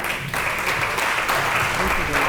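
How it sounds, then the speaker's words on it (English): Audience applause following an educational lecture segment on a tour, a steady dense wash of clapping throughout with some voices mixed in. "let's have a round of applause for that"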